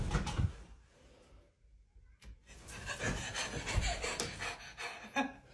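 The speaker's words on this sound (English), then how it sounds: "The panting." A person pants heavily in quick, breathy bursts during a tense horror-movie style game of moving while a light is off, with rubbing and shuffling noises close by.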